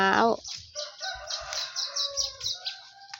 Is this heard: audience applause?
no